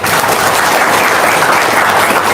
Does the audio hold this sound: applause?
yes